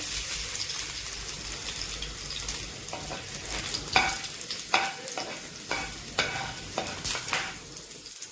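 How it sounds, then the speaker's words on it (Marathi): Chopped garlic pieces dropped into hot oil in a pan for Hakka noodles, a steady close sizzle with irregular stirring scrapes and bursts of spatter, no voices. "तेलामध्ये आपले कट केलेले लसणाचे तुकडे टाकायचे आहे"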